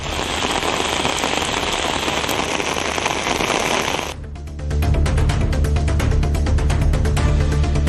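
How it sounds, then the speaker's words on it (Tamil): Heavy rain driven by strong wind pours down across towns in Tamil Nadu, a dense steady roar that keeps going, then changes to a lower rumbling downpour with sharp drop patter partway through. "பலத்த காற்றுடன் மழை பொழிந்தது"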